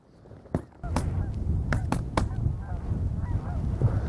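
Geese honk repeatedly nearby during a late-December goose hunt in Alberta, with several sharp bangs cutting through the calls.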